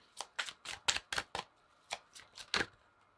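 Tarot cards being shuffled by hand, a rapid series of about ten crisp riffling bursts that come in two clusters with a short pause between them, close and fairly quiet, with no voices.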